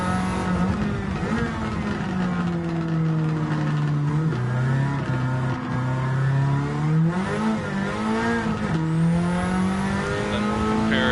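A race car in Gran Turismo 7 drives continuously with a rising and falling engine note as it slides through corners, tyre scrub audible beneath the steady revving and no voices.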